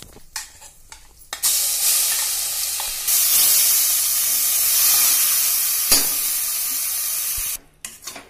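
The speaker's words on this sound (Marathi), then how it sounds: "आपण हा वाटून घेतलेला मसाला घालून तो चांगला परतून घेणार आहोत" Ground masala hits hot oil and fries with a loud, continuous sizzle and hiss, broken by stirring scrapes and brief pauses at the start and end.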